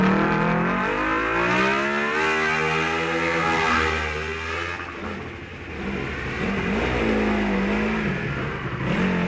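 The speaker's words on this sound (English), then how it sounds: "Is Tarindu Dinendra in the Kawasaki 400. Very powerful bike." Kawasaki 400 motorbike racing up a hill-climb course, engine screaming loud and close with rising and falling revs through gear changes, a continuous high-pitched whine.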